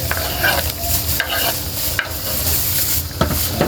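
Octopus adobo being stirred in a frying pan, with a steady sizzle broken by repeated scraping and clattering strokes close by, no voices.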